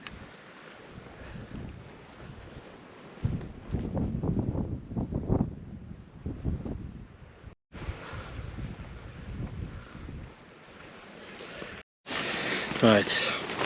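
Gusty wind rushes and buffets against a tent in uneven surges, loud then easing, with brief cutouts; a wood stove is being used in the tent.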